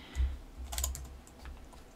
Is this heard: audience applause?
no